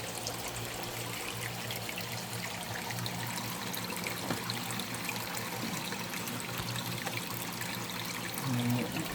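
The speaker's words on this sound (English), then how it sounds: "Probably could add about 2-3 gallons of water today." Water is poured steadily into an animal enclosure, a continuous close trickle and splash lasting several seconds with no talk.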